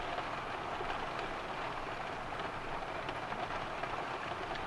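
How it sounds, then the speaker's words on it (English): Steady rain hissing evenly on a surface in Tromsø, a constant soft wash of noise with no voices. "it started raining again"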